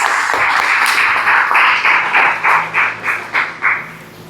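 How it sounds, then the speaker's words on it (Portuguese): Church congregation applauding during a Portuguese-language service, steady dense clapping that breaks into a few rhythmic bursts before fading out. "Você pode aplaudir a Jesus?"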